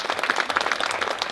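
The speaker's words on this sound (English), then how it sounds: "let's have another massive round of applause to show our love and support for our beautiful couple." Wedding ceremony guests clapping for the couple, a brief burst of many hands with crisp, irregular claps at moderate volume, lasting just over a second.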